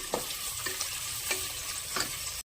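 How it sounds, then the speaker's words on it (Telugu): Onion frying in hot oil with mustard seeds, cumin and curry leaves, a steady close sizzle broken by a few brief stirring scrapes, with no talking. "కొంత కలర్ చేంజ్ అయ్యే వరకు వేయించుకోవాలి"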